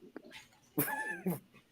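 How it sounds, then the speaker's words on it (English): A dog gives a short bark followed by a drawn-out whimpering whine and a second yelp, close and fairly loud with no talking over it. "That's a dog that knows where it's not supposed to be."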